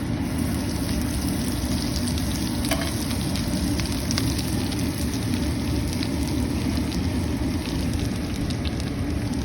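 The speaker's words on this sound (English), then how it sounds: "So a stick of butter is going to go in there." A stick of butter melting and sizzling in a pot for a creamy Italian sausage and tortellini dish, giving a continuous loud, close frying hiss with faint occasional scrapes.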